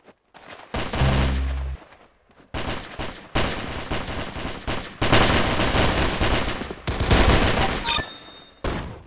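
Rapid bursts of gunfire from a shooting session, several long clattering volleys separated by brief pauses, loud and sustained, with no voices.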